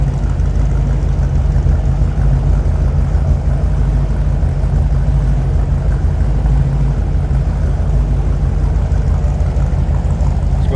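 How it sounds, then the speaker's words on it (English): A 1956 Ford Parklane wagon with a mild cam and glasspack mufflers idling close by, a loud, steady engine rumble, deep and throaty with a constant low burble and no talking. "You can hear it's got a little rumble to it. That mild cam glass packs."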